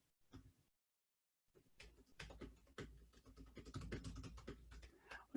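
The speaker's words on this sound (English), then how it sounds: "if you can't see what I'm typing there" Fingers tap on a computer keyboard in a quiet room, a faint, uneven run of soft key clicks after a brief silent gap.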